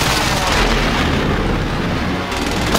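An airstrike explodes in a video game, a loud, sustained rumbling blast with rolling booms and debris that fills the whole moment without pause, with no talk over it.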